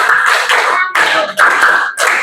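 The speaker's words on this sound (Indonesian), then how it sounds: "tepuk 5 kali" A class claps hands together in several bursts of broadband applause, loud and close, with brief gaps between rounds.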